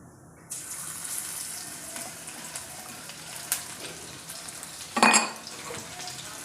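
Ginger-garlic paste dropped into hot oil with cumin, a faint, steady fry that flares into a short, sharp sizzling burst near the end, with a light clatter of utensils.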